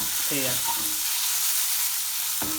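A medium onion fries in a pan of oil over medium-low heat, giving a steady, close, dense sizzling hiss throughout, with a brief faint clink near the start and a short knock at the end.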